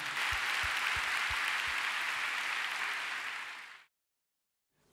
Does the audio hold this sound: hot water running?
no